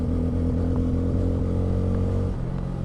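A Bajaj Pulsar N250 motorcycle being ridden, its mid-pitched engine thrumming steadily up close with rhythmic pulsing and a brief shift in tone near the end, with no talking.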